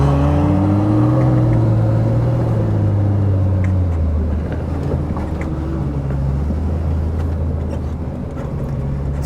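An off-road vehicle on 35- to 37-inch tires drives over wet snow in El Dorado National Forest, its engine droning loud and steady with shifting pitch as it moves off and keeps rolling.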